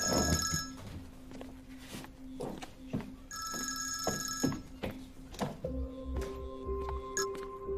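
A telephone rings with repeated bright electronic trills in a steady on-off pattern, close and clear, over low room noise and soft movement sounds.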